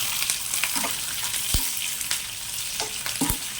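Green chillies and dried red chillies fry in a pan of oil for peanut chutney, giving a steady close sizzle dotted with sharp crackles and pops.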